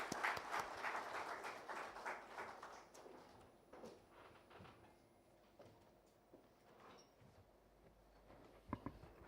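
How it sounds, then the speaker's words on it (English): Applause from an audience at an awards ceremony held in a hall in New Delhi, with dense clapping loudest in the first few seconds before thinning out into scattered claps and room noise. "Ladies and gentlemen, give him a big round of applause."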